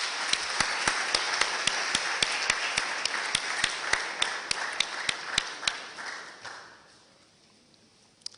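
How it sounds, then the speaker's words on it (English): Lecture audience at a memorial lecture series claps steadily with sharp individual claps standing out, the applause holding loud for several seconds before tapering off and stopping. "Let's give him a round of applause"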